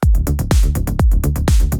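Unprocessed hi-hat loop in FL Studio for a melodic techno track: a dry, loud, repeating run of short metallic ticks and open-hat sizzles over regular deep thumps, with a tight rhythm and no voices.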